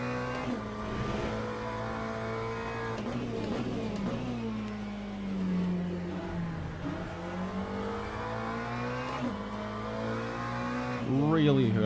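A McLaren GT3 race car engine in the Le Mans Ultimate racing game revs up and down steadily through gear changes, loud and continuous, with a brief tire squeal near the end.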